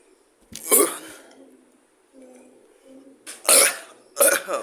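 A burp from someone chugging a whole bottle of Sprite, several short guttural bursts standing out close and loud against quiet pauses.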